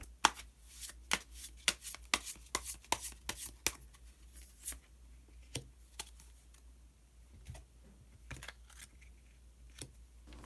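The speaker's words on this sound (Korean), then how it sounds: "마지막으로 히든 카드 한 장 더 뽑아보도록 하겠습니다" Tarot cards being shuffled and drawn, a run of quick crisp riffling clicks and flicks in bursts, close and fairly quiet, followed by scattered single card snaps and slides, with no talking.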